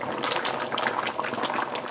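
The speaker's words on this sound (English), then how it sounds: "the lobster is bubbling away in that curry sauce" Lobster claws simmering in curry sauce with shrimp and potatoes, a continuous close bubbling and popping of thick liquid, steady throughout with no voices.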